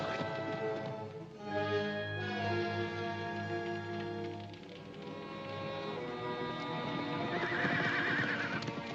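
Horses whinny loudly in long, wavering neighs at an outdoor camp, with hooves clip-clopping along underneath and a shrill whinny rising near the end.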